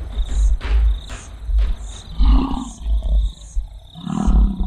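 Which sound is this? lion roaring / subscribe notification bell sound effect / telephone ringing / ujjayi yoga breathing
lion roaring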